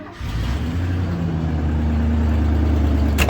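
1987 Ford F-150 pickup engine idling steadily after a loose spark plug wire was reconnected, a close, loud low rumble with a steady hum and an exhaust leak, running evenly throughout with no speech.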